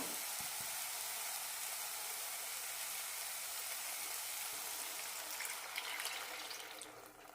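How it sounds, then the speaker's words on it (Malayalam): Milk poured into a pan of cooking bananas, a steady soft hiss and gush like running water that tapers off toward the end, close and with no talking. "ഇതിലേക്ക് പാലൊഴിക്കാം"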